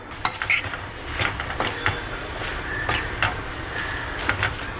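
Red amaranth tambdi bhaji is stirred in a pan, with a quick, close run of spoon scrapes and clinks against metal over a soft, steady sizzle.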